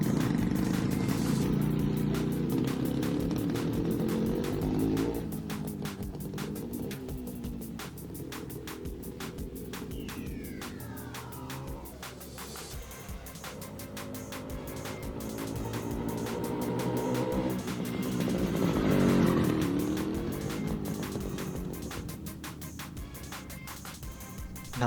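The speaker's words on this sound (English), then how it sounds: "air-cooled parallel twin carburetor 6-speed manual engine" An air-cooled parallel twin motorcycle engine with carburetor and six-speed manual gearbox runs steadily, its rumble dipping mid-way then swelling again near the end, heard alone without speech.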